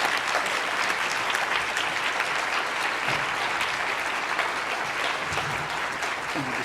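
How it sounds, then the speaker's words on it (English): Sustained audience applause honors Dr. David Finkelhor receiving a national scientific award at a plenary session, a dense steady wash of clapping from a large crowd lasting throughout without a break. "give a round of applause and recognize Dr. David Finkelhor for the National Scientific Accomplishment Award"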